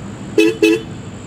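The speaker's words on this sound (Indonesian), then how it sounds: "di bawahnya ada klakson" Two short, bright horn beeps from a Royal Enfield Interceptor 650 motorcycle in quick succession, loud and close, over a low background hum.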